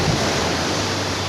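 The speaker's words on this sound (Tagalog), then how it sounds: "Yan mo yung mga alon sa dagat mga kabrothers, bumubula talaga pag babagsak siya sa tabi ng bato" Sea waves crashing and foaming against rocks beside a boat, a loud, steady, broadband roar of surf and spray with no break, heard close up and alone with no voices.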